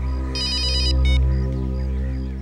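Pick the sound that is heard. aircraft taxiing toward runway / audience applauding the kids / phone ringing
phone ringing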